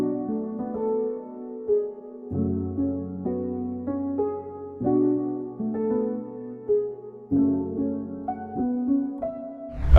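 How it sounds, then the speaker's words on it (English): Ambient piano layer from a Spitfire Audio Labs plugin, soft sustained chords changing every few seconds with gentle bass notes beneath, moderately quiet and alone. "Now let's just go into this piano layer, which sounds like this."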